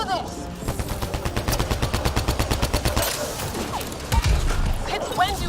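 Rapid, rhythmic bursts of automatic gunfire from the Mass Effect: Andromeda video game, loud and close, pulsing steadily for about three seconds before giving way to scattered impacts and other battle noise.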